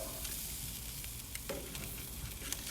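Jerk lobster tails basted with butter sizzle steadily on a grill, a continuous close crackle and hiss with a few sharper spits, no voices.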